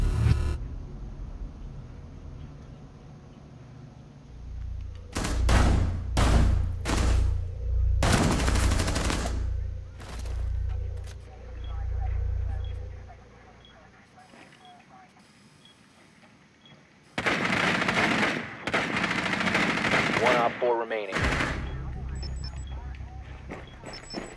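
Gunfire in the video game Rainbow Six Siege, with a plane team deathmatch bomb mode: several sharp bursts of shots and a longer stretch of heavy firing, loud and close, with game ambience between them.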